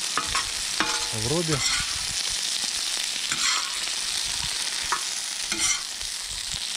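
Potatoes fry in oil on a saj over an outdoor grill by a river, a steady broadband sizzle with scraping and stirring clatter throughout, close and loud, with a brief spoken word and a short whistling tone early on.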